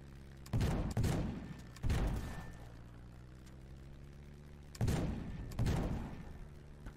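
About five heavy, booming shots from a ship's guns in the video game Black Skylands, each ending in a decaying rumble, fired in two separated pairs plus one shot, alone against a quiet background.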